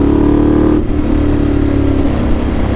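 Ducati Multistrada 1200 Enduro motorcycle engine running loud and close, a steady deep rumble that dips briefly then holds at an even idle-to-rev drone.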